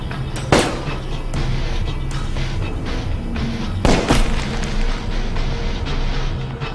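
Two loud gunshots ring out in a first-person adventure game, one early and one near the middle, each a sharp crack over a constant rumbling background drone.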